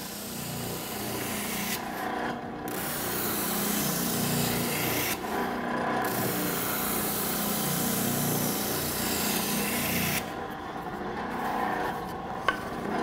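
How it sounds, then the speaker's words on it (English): A steady, gritty rasp of wood being sanded against the spinning sleeve of a spindle sander, removing saw marks, continuing close and loud with brief lighter dips as the piece shifts. "I'm going to move it from left to right and kind of across the sanding sleeve"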